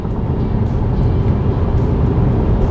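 A car accelerating hard to overtake on the road, a steady loud engine drone with road and wind roar heard from inside the cabin, with no talk.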